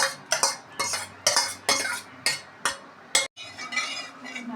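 A metal spoon stirs moong dal lemon rasam, made with cooked split moong dal and tomato, in a pot: a series of sharp clinks and scrapes against the metal at a fairly steady pace, close and clear.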